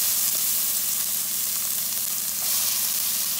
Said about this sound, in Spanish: vamos a dejar que se frían un poco